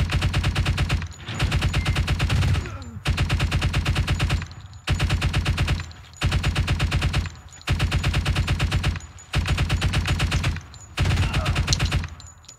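Suppressing machine-gun fire from gunners in Door Kickers 2, sustained automatic bursts of about a second each repeating steadily with brief gaps, loud and close, with no voices.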